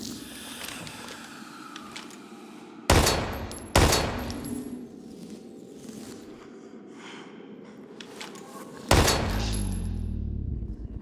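A few loud, sharp video-game gunshots in Daymare: 1998 ring out with long gaps between them, each one trailing off, over a quiet rumbling background.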